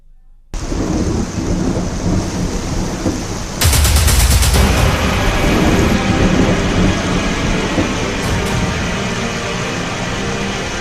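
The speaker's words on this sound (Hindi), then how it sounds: "अब आपको दिखाते हैं कुछ दिन पहले तक पहाड़ों पर बारिश का कैसा मंजर देखने को मिल रहा था" Heavy monsoon rain pounds down in the mountains of Himachal Pradesh, a loud, continuous roar, with a sharp, close thunderclap breaking in early and rumbling on under the downpour.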